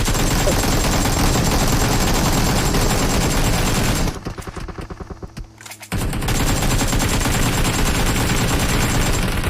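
Dense, loud bursts of automatic gunfire in the PUBG Mobile video game roar almost continuously, with a sharp drop to quieter, thinner shots for about two seconds before the heavy firing resumes.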